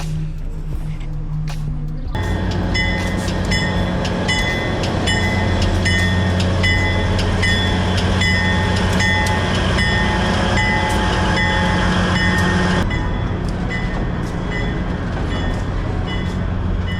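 A restored train rolls past in a small town, its loud, steady rumble and rail clatter holding close for most of the passage before easing off near the end.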